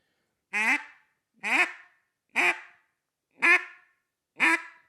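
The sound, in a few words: duck call being blown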